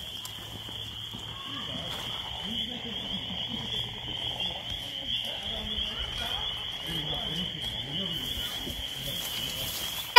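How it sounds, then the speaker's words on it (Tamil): Frogs croak in a chorus along a trail in Father Hennepin State Park, Minnesota, a steady dense calling with warbling low notes, insects or a high whine above, and a voice talking over it. "இங்க ஃப்ராகோட சத்தம் நிறைய கேக்குது."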